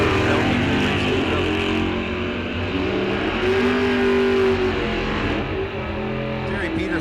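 Mopar drag race cars roar loud and continuous down the strip at Rock Falls Raceway during a bracket series event, engines revving hard, with a commentator's voice running over the racket.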